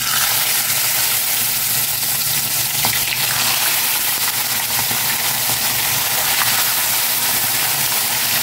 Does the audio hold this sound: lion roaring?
no